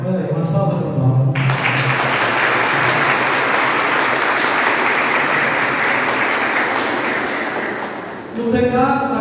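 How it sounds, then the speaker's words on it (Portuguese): A church congregation breaks into a long, loud round of applause at a Sunday Mass celebration; the clapping swells fast, holds steady for several seconds, then fades as voices return at the end. "Olha aí, uma salva de palmas."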